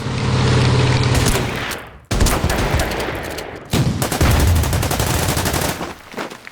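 A tank attack in the World War II strategy game Order of Battle, loud dense bursts of gunfire and booming blasts in several waves with brief gaps between them, with no talk.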